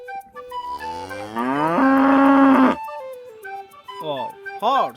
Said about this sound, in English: Cow, white and black color cow.